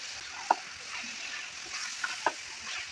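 Spices and chili fry in a pan for a beef and bean curry, giving a soft, steady sizzle with a few sharp clicks of a spoon stirring against the pan.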